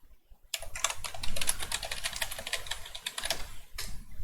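Keys clatter in a fast, steady run of clicks on a new computer keyboard, fairly close and continuous with a short pause near the end, no talking.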